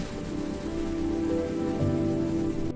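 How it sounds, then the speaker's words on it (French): Heavy rain pours steadily onto roofs and pavements during a storm over a town, a dense continuous hiss with a faint low rumble underneath, no voices. "La pluie frappe les toits et les trottoirs."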